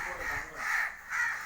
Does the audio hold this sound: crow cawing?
yes